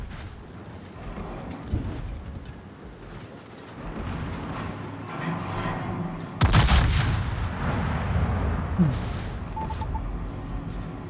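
A battleship's heavy gun salvo fires in World of Warships, the Preussen superbattleship in a naval battle, as a loud booming burst over constant rumbling battle noise, with a deep roar around the middle.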